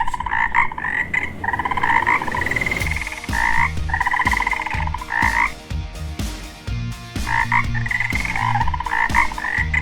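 Frogs croaking loudly and close, in repeated rhythmic bursts of harsh, buzzy calls that overlap and pause briefly before resuming, with no talking.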